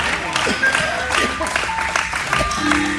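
Church congregation applauding during an evangelistic service, a steady wash of clapping that swells and dips over a few seconds, with voices mixed in.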